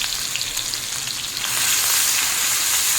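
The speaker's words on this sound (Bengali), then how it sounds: "এটাকে ভেজে নেবো মিনিটখানি।" Onion paste, ginger-garlic paste and two dried red chillies fry in hot oil with a loud, continuous sizzle that swells noticeably halfway through, and no voices.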